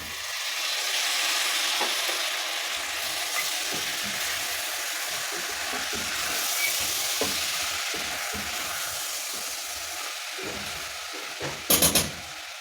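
Tomatoes hit a pan of sizzling beef wet fry, a steady loud frying hiss with intermittent scraping stirs and a brief clatter of utensils near the end.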